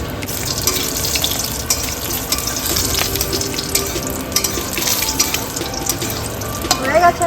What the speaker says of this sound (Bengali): ডালের বড়িগুলো ভেজে নিচ্ছি